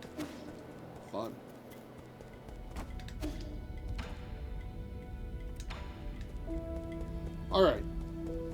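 Rain falls at night in the video game Nine Sols, a steady patter on surfaces with scattered ticks and knocks, while a voice talks over it.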